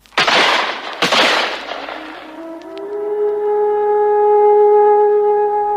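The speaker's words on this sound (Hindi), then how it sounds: "कप्तान के मरते ही वृद्ध पर गोलियों की बौछार हुई।" A burst of gunfire, a hail of bullets, opens with two sharp loud cracks and rattling noise that fade over about two seconds into a sustained ringing tone, like a dramatic sound effect.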